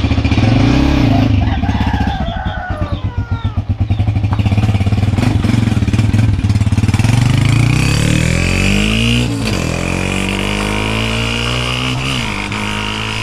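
A Honda TMX 125 Alpha motorcycle fitted with an RCB setup starts and idles close by, its engine running loud and steady with a few revs and some mechanical clatter throughout.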